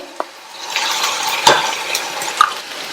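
Finely chopped onions sautéing in a pan for a radish side dish give a close, soft sizzle, punctuated by a few sharp spoon taps and scrapes against the pan.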